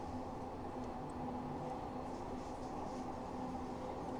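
An automatic Glasgow subway train in Train Simulator runs steadily with a continuous low rumble and faint tonal hum, quiet and unbroken throughout.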